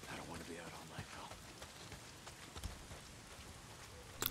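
Heavy rain falls in the Days Gone video game, a faint, steady patter with scattered drip-like ticks and the odd sharper splash.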